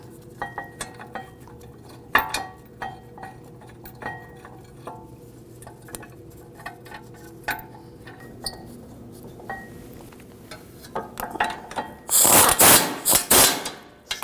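Bolts threaded by hand into a brake caliper bracket on a 2006-2009 Audi S4 4.2L V8 give scattered light metallic clinks and taps, ending in a louder cluster of rattling metal near the end.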